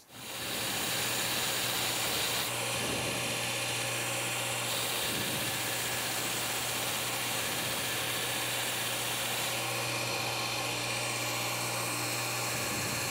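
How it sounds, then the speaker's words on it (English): Steady, rough grinding roar from shaping a knife handle, with a constant hum and hiss, running continuously and loud from start to finish with no voices. "That's mostly just rough grinding."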